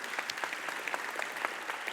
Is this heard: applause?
yes